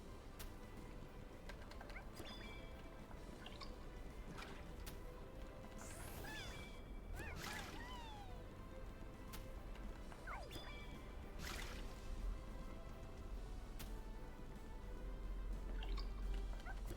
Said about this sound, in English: these are kind of disgusting water sounds